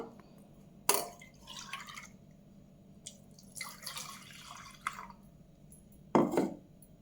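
Jaggery water for pani puri is poured and strained, with splashes and trickling liquid arriving in a few distinct close bursts separated by quiet pauses.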